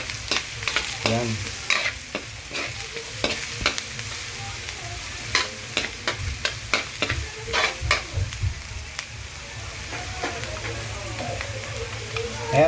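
Garlic, onion and ginger fry in a pan for tinola, with a constant oily sizzle and frequent close scraping of a spoon stirring through, loud and busy throughout.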